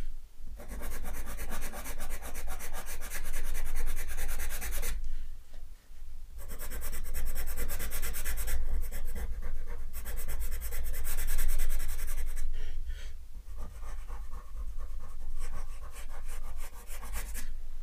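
Soft pastel pressed firmly and rubbed onto textured pastel paper, a continuous close scratchy rubbing in long strokes broken by a couple of brief pauses.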